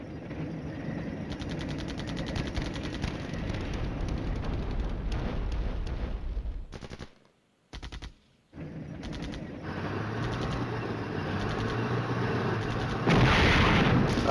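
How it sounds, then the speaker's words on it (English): Artillery fire in the wargame Flashpoint Campaigns: Red Storm, a dense run of booming and rattling shots that drops out briefly midway, then resumes loud with a burst at the end. "Still have a chance to shoot some artillery."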